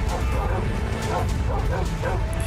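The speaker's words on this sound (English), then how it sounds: "Techno with a legion of dogs? Or wolves?" A pack of dogs or wolves barks in a Minecraft-style animated prison-break scene, several yips and barks blurring together under a dense, noisy wash of game sound and music.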